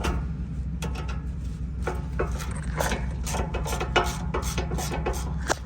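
A hand ratchet works loose rusted 7/16 bolts on the drive shaft of a Chevy, giving rapid, close clicking bursts in uneven strokes with short pauses between pulls, over a low steady background hum.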